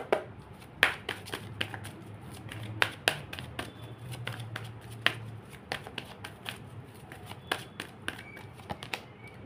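Tarot cards being shuffled and handled close by, with irregular crisp flicks, riffles and taps scattered through the clip over a faint background hum.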